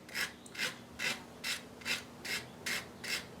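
A tool bevel is stroked in one direction across a ceramic sharpening stone, giving eight even, close raspy scrapes at a steady rhythm with brief pauses between strokes and no talk.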